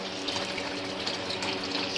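Water pours steadily through a pipe into one of a dozen aquaponics tanks being filled, a continuous broad rushing gush with no pauses and no talk.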